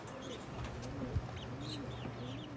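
A companion parrot makes soft, cooing chirps and short whistles while leaf bathing indoors, quiet and intermittent over low background hum.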